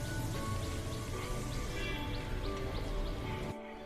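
Rain falls outside as a steady, dense patter and hiss, with scattered drips standing out against the wash. The sound stays fairly loud and constant and then drops abruptly near the end, with no talking.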